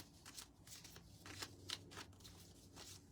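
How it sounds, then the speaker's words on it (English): A deck of cards is shuffled in soft, repeated riffles and rustling bursts, close and quiet, with no talk over it. "I'm going to go ahead and begin to shuffle while you're all tuning in."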